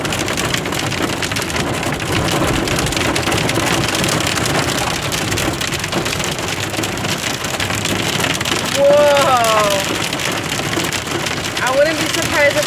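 Dense hail pours down in a Menifee storm, a continuous loud clatter and drumming on nearby surfaces, likely a car, with brief excited voices rising over it near the end.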